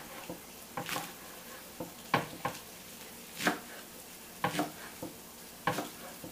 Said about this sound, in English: Now I'm just going to coarse chop this up.